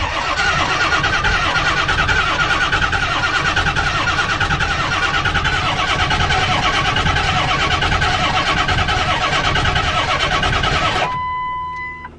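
A diesel truck's starter cranks the engine after the glow plug cycle; the truck is slow to start and smokes white. It gives a loud, rhythmic churning pulse for about eleven seconds before cutting off abruptly.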